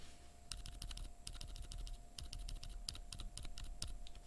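Rapid typing on a keyboard fitted with stock Bobagum linear switches, a close, quiet run of crisp keystroke clacks in uneven bursts with brief pauses.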